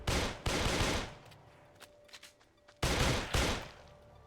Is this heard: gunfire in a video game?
yes